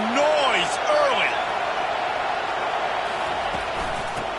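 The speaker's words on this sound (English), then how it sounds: "This crowd bringing the energy and noise early." A stadium crowd roars with dense, steady noise during a Golden Bears vs Utah college football game. A commentator's voice rises over it at the start.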